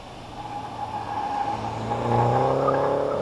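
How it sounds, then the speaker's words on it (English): A turbocharged 1600cc Mini Cooper S R56 leaves the start line at a British Championship hillclimb at Harewood. Its engine note climbs steadily through the gears and grows louder as it accelerates away. "Away from the start line, Anthony Spate in the Mini Cooper S R56."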